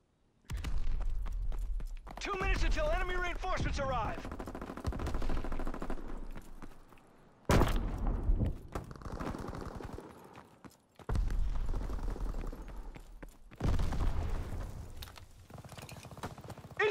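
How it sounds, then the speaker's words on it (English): Suppressing gunfire in the World War II video game Call of Duty WWII: sustained loud bursts of rapid automatic fire and scattered shots in several waves, mixed with mechanical clatter and faint shouts. "Need suppressing fire!"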